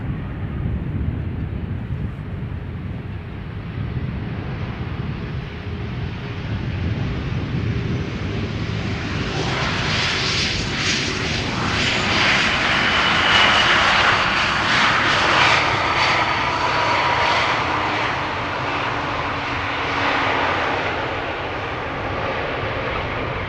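An Air France Airbus A220-300, also known as the Bombardier C Series, arrives at Schiphol Airport on a flight from Paris, with steady jet engine roar that swells and brightens in the middle as it passes nearby, then eases slightly.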